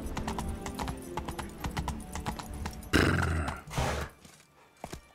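Roach, Geralt's horse in The Witcher 3: Wild Hunt, gallops with a steady run of close hoof clip-clops, then a louder burst of rushing movement and a brief snort or whinny near the end.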